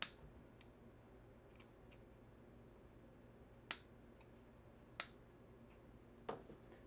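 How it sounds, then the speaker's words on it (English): Scissors snip cotton wick for a vape RDA rebuild, a few sharp isolated clicks spaced a second or so apart over a quiet, faint background. "So we're going to cut this cotton to match the other side."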